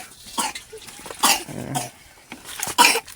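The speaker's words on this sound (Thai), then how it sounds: "โอ้ยเห่าคักเห่าแน่แท้" A dog barks in several sharp bursts at a house, loud and close, with uneven gaps between the barks and no talking.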